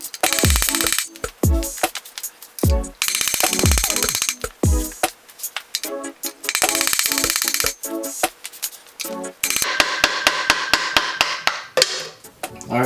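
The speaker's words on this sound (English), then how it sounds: "you want to get a screwdriver behind it and a hammer and just lightly tap it and make a circle" A hammer taps a screwdriver over and over to work a transmission seal out of an NA Miata, giving sharp metallic clinks in quick bursts, close and loud, with short pauses between runs.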